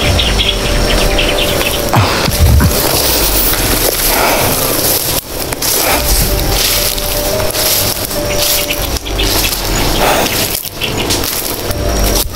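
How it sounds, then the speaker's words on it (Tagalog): Birds chirping in a rainy forest, scattered calls woven into a loud, constant hiss of rain and insect-like buzzing that carries on with no pauses. "May ibon tol."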